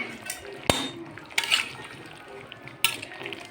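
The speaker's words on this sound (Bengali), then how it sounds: "গরম মশলা বাটাটা দিয়ে একটু নেড়ে দেবো" Fish curry stirred in a pot after garam masala paste goes in: a few sharp metal clinks of the spoon against the pan over a soft liquid simmer, close by, with no talk.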